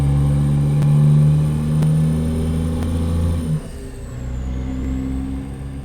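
A Cummins NTC Big Cam 350 diesel truck engine in American Truck Simulator drones loudly with a deep steady rumble and faint whine, then drops to a lower idle about midway.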